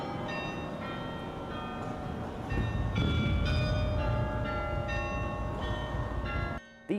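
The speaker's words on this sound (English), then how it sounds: "you can hear Leach playing the bells" Church bells ring out a slow melody, with clear sustained tones sounding one after another under a steady low rumble of background noise before cutting off near the end.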